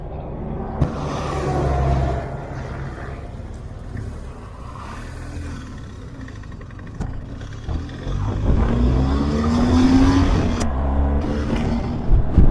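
A BMW R1250GSA motorcycle cruises down a windy road, its engine rumbling and swelling as it accelerates, with rushing wind noise throughout and no talking.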